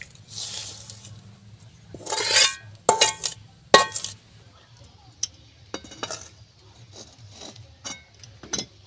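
A spatula scrapes and clinks against a pan as fried vegetables are stirred into rice for veg fried rice, irregular close metallic taps and scrapes with short gaps between them.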